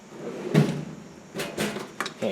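A junk drawer in a home workshop slides open with a few short scraping and knocking bursts, close and moderately loud, separated by brief pauses.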